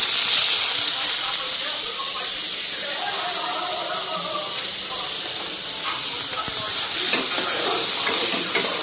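Banana stem pieces hitting hot oil in a pan give a steady, loud broadband sizzle and hiss that runs throughout without letting up, with faint stirring clatter underneath.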